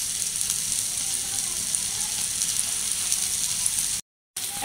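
Green chillies frying in hot oil with salt and cumin, being stirred: a dense, even sizzle heard up close, continuous apart from a brief cut-out near the end, with no talking.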